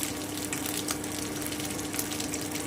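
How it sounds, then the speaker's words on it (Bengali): Ground spices with ginger paste and chopped green chilli sautéing in a pan, a constant close sizzle and hiss with faint scraping stirs, moderately loud and steady, no voices. "কাঁচা লঙ্কা কুচিটা দিয়ে দিলাম এবারে আমি একটু ভালো করে কষিয়ে নিচ্ছি"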